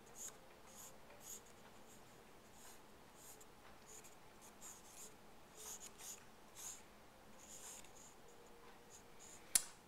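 Oil pastel strokes across paper while drawing gardenias, a soft continuous scratching with short rhythmic bursts as lines are adjusted, quiet and close with no talk.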